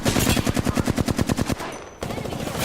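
Rapid automatic gunfire from a battle royale shooter game blasts in a steady stream of about fifteen shots, then cuts off abruptly before a burst of noise returns; loud and close, with no talk.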